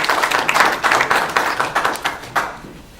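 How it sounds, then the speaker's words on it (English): An audience at a mayor's coffee hour applauds, a brief burst of many hands clapping that fades out after a few seconds. "So with that, please give Dennis and Brad a round of applause."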